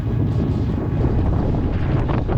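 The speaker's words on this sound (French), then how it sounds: "Il y a trop de rafales, il y a trop de vent." Strong, gusty wind buffets the microphone on an exposed desert climb toward a sandy summit in Algeria's Tassili n'Ajjer, a loud, continuous low roar with surging gusts and no speech.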